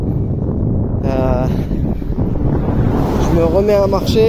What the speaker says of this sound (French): Le vent du nord, enfin venant du nord, il est tellement fort que j'ai beau me mettre debout et pédaler